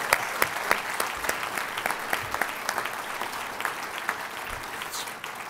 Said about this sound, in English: Let's give Allison a huge round of applause.